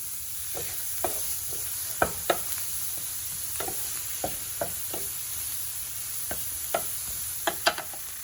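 Onions frying in a pan, a low even sizzle punctuated by a dozen or so light taps and scrapes of a spoon against the cookware, close and without speech.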